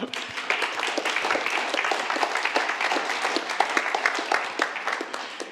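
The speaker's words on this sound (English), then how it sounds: "I think that deserves a round of applause as well" An audience at the Geneva Peace Week 2021 closing ceremony gives a round of applause: crisp, closely packed hand claps, fairly even in level from start to finish and heard alone.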